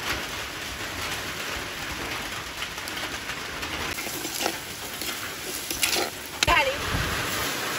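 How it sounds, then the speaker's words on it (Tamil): Steady hiss of rain falling outdoors in a village during outdoor cooking, a constant wash with occasional louder clatters and a sharp clink near the end. "கடைசியாக கறி வைக்கிற நேரத்தில் மழை வந்துட்டுது."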